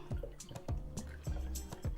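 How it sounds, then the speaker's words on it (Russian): Rose water from steeped rose petals is poured through a small funnel into a little bottle. It gives a series of close, wet trickles and drips in short bursts, with no talk. "просто-напросто выливаем нашу розовую воду вот в эту вот бутылочку"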